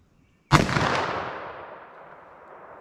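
A single loud .357 Magnum revolver shot fired at a target at 75 yards, a sharp crack followed by a long fading echo, with no talk.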